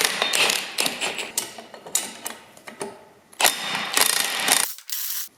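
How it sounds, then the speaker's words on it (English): A ratchet tightening a nut on a Timken axle pinion puller for a Willys truck, heard up close as a rapid series of loud clicking ratchet strokes in uneven bursts, stopping abruptly near the end. "What we're gonna do now is put our nut on here, tighten that down."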